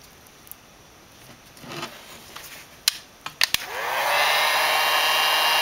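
A heat gun shrinks adhesive-lined heat shrink tubing over a soldered wire joint, coming in as a rising steady blowing roar after a few light handling taps and clicks.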